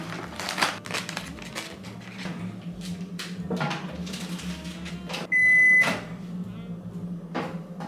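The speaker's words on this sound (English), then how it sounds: "I'm gonna microwave this." A microwave oven heating bread hums steadily and is nearly masked by clattering and voices. A short electronic beep sounds partway through.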